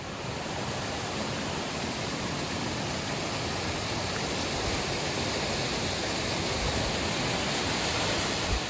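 Water from the outlet of Goat Lake pours down as a waterfall in Copper Basin, a steady broadband roar heard from a distance, constant and unbroken with no voices.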